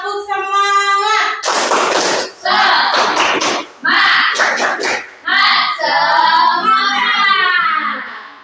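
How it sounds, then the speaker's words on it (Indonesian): A school class performs a rhythmic spirit clap, with loud bursts of patterned hand clapping alternating with children chanting together in unison, close and energetic. "Coba itu dulu deh, tepuk semangat dulu deh"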